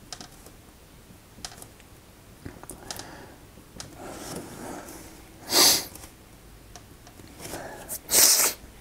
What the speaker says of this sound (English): I don't know why I have the sniffles.